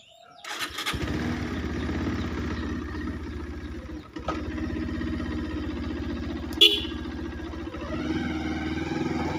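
A motorcycle engine cranks and fires after a brief moment, then runs steadily and close as the bike pulls away and rides. The engine note rises slightly near the end, and there is one short sharp bump partway through.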